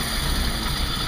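An all-original 1934 Dodge sedan engine idles steadily just after a cold start in a freezing garage, a close, continuous mechanical drone with no talk.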